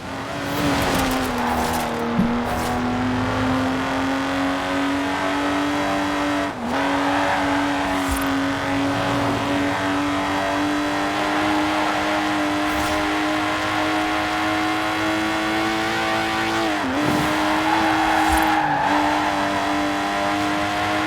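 A Lotus sports car in Forza Horizon 4 holds a loud, sustained engine drone at steady revs, with brief dips at gear shifts and a few faint tire squeals throughout.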